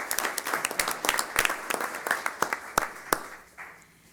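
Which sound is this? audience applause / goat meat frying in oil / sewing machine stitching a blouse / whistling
audience applause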